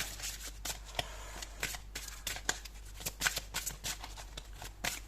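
Tarot cards are shuffled by hand in quick, crisp riffling bursts, close and fairly quiet, with short papery flicks and slaps between them and no talking.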